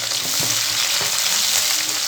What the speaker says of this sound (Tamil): இந்த வெங்காயம் கொஞ்சம் பொன்னிறமாக வதங்கி வரட்டும்